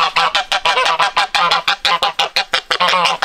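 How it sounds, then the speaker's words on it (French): Geese honk loudly and close by, a rapid rhythmic string of harsh calls repeating without pause. "on a les oies, elles sont toujours en train de gueuler elles"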